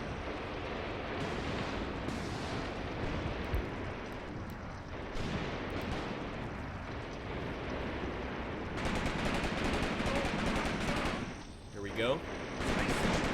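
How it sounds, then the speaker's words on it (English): Heavy artillery fire in the World War II tactics game Graviteam Tactics: Mius-Front, a continuous dense roar of distant shelling and rumbling impacts, with someone speaking briefly near the end. "that artillery is coming in very heavy and very hard"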